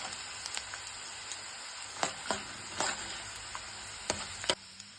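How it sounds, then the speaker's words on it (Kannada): Crushed garlic sizzles in hot oil in a pan while puliogare is being made, a soft continuous frying hiss broken by several sharp crackles and spatters as the pan is stirred. "ಬೆಳ್ಳುಳ್ಳಿ ಸ್ವಲ್ಪ ಜಜ್ಜಿಬಿಟ್ಟು ಹಾಕ್ಕೊಳ್ಳಿ"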